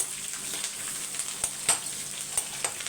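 Curry leaves and garlic fry in hot oil in a pan, a continuous close crackling sizzle with scattered louder pops and spits over a steady hiss; no one speaks.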